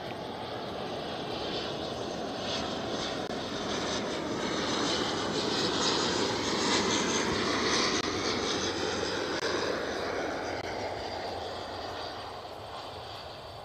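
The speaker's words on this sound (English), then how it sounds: "It's an extraordinary landing." A fixed-wing airplane landing at an airport during plane spotting, its engine roar swelling to a loud, broad rush as it passes close, then slowly easing off, with no talking.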